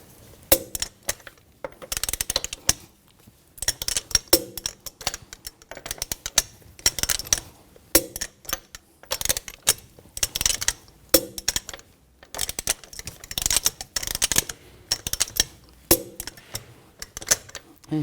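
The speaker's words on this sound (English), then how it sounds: "Now we're going to tighten the lug bolts to 111 foot-pounds in a cross pattern to tighten the wheel down evenly." Lug bolts on a 2000-2006 BMW X5 wheel are tightened in a cross pattern, giving repeated sharp metallic ratchet clicks and clinks in irregular bursts, close and fairly loud.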